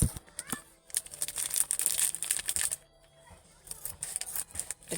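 Scissors snip and cut through material at close range in quick bursts of crisp clicks and crinkling, with a pause midway before more cuts, and a little background talk.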